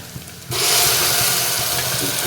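Ground tomato paste hits hot oil in a pan for restaurant-style tomato spaghetti, bursting into a loud, continuous sizzle after a brief quieter moment, then frying steadily.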